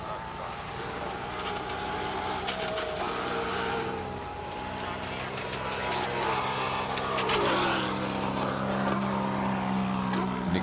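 Race car engine at a hillclimb event, a steady loud drone that rises and shifts in pitch across the run, with broadband road and wind noise throughout.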